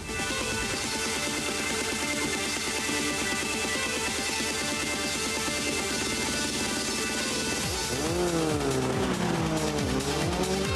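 BMW race car with a 2.5-litre six-cylinder engine, driven by a professional, revving hard with a loud continuous engine howl that rises and falls as it accelerates and shifts, with some tyre squeal.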